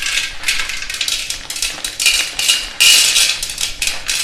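Chana dal hits hot sesame oil and gets stirred, a busy, close crackle and sizzle with rapid scraping and clinking pulses that grows louder near the end.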